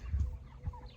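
Cornish cross meat chickens, six and a half weeks old, in a pasture chicken tractor, give a few soft, low clucks close by in short bursts.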